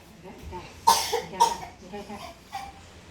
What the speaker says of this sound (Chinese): 这咳嗽就有点假了